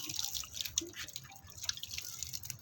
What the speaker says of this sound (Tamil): தண்ணி ஊற்றிடலாங்க. அப்புறம் நம்ம தண்ணி ஊற்றிக்கலாம்.